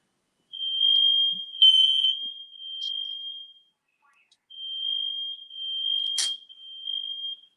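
A smoke alarm going off with a piercing high steady tone, sounding in two long stretches separated by a short silence, loud and close, with a brief click or clatter mixed in.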